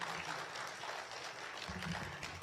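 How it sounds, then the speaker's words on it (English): An audience at a Saturday morning community forum claps for a teachers union. The applause is faint and fairly distant, steady and diffuse through the short stretch, with a low voice murmuring near the end. "Give our teachers union a round of applause as they come and give their side"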